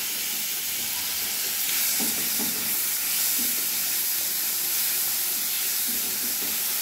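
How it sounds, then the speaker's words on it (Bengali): Onion, garlic and tomato frying in a pan for a Bengali fish-head and mung dal dish, giving a loud, steady sizzle and hiss close by that continues throughout with no talking. "পেঁয়াজ রসুনটা একটু ভেজে নেব। টমেটোটা দিয়ে দিলাম।"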